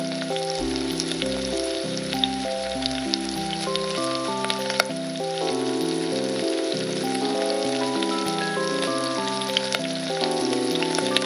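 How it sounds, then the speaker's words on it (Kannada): Rava-coated marinated fish fries on a tawa over low flame with a steady, dense sizzle throughout. Background music with shifting tones plays over the frying. "ಕೋಟಿಂಗ್ ಆಗಿರೋ ಫಿಶ್ ಹಾಕಿ 2 ಕಡೆ ಚೆನ್ನಾಗಿ ಫ್ರೈ ಮಾಡ್ತಾ ಇದ್ದೀನಿ"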